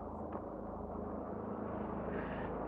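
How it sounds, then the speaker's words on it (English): A helicopter flies overhead, giving a steady low rumble and drone that holds at moderate distance throughout, with no talking. "We'll wait until that helicopter fly over."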